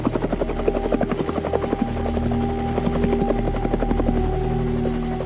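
A military attack helicopter flies close by, its rotor beating in a fast, steady chop over a loud engine drone that stays strong and constant throughout.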